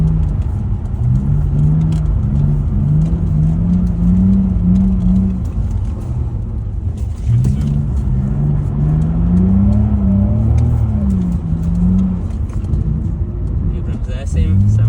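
BMW 330ix E46 drifting on ice, its engine droning and rising and falling in pitch through sustained slides, loud and close inside the cabin, with people talking over it throughout.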